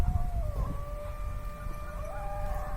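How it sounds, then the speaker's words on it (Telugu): Dogs howling nearby, long drawn-out wavering howls overlapping one another, fairly clear over a low rumbling background. "అవునుగా ఆడనే కుక్కలు వినిపిస్తుందా?"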